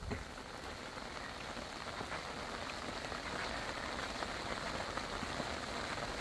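Heavy tropical rain pours on a flooded bivouac camp in Shikoku, Japan, a dense, steady hiss of drops pattering on surfaces, fairly close, continuous and unbroken, with no voices.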